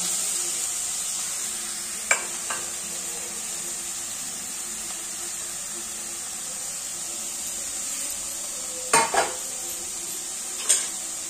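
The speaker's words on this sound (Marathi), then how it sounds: "हे गाजर टाकून घेऊया, छानपैकी गाजर भाजून घेऊया।" Grated carrots are stirred and roasted in hot ghee in a pot for carrot halwa, with a steady sizzle underneath and a few distinct scrapes and clinks of the spoon against the pot.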